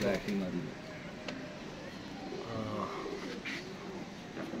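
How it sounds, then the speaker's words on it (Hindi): Seven or eight pigeons settle onto a perch, soft cooing and wing flutters heard faintly beneath someone talking throughout. "और ये माशाल्लाह कबूतर बैठ रहा है दोस्तों, 7-8 कबूतर हैं माशाल्लाह।"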